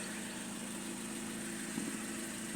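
A 1988 BMW 528e idles with a leaky exhaust, giving a steady, unchanging mechanical hum with a low throb and a constant hiss, close by and with no voices.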